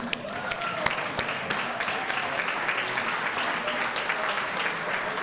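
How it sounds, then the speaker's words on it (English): Applause for the parents of Eagle Scouts at the Sussex County Distinguished Citizen Awards Dinner, a steady crowd clapping that fills the room evenly and continues without a break. "You deserve a round of applause."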